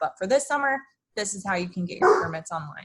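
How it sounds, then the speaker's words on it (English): A dog barks in the background while a person speaks over it, the barking faint and intermittent beneath the talking. "My apologies for my dog barking."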